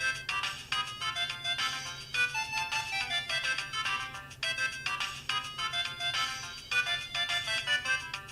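Windows Phone device startup sound, a bright melodic chime with layered tones that plays steadily and fairly loud for several seconds, alone with no talking.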